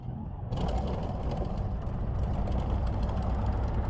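A piston aircraft engine in the World Flight VR game cranks and catches, settling into a steady rapid chattering idle with a dense low rumble that holds evenly.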